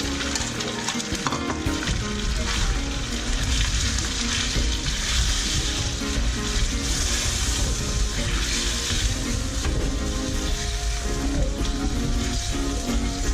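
Chicken karahi with yogurt and no tomato or onion sizzles loudly in a pan, a dense continuous frying crackle with stirring scrapes, no voices.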